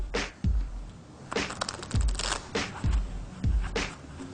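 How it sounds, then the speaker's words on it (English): Playing cards are shuffled together by hand during a close-up card trick, with about five crisp riffling bursts in a steady rhythm, each ending in a soft tap, up close and with no talking. "Now take these cards and go ahead and shuffle them into those."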